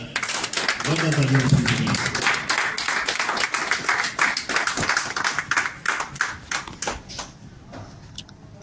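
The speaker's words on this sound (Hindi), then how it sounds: "प्लीज आइए, जोरदार तालियां" Audience at an honouring ceremony for a journalist claps loudly and steadily, then thins into scattered individual claps that fade out, with a voice speaking briefly over the start.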